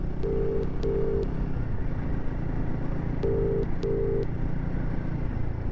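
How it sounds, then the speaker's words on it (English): A phone ringback tone sounds in two paired bursts, separated by a pause, over a low steady motorcycle engine drone. "There we go, it's ringing."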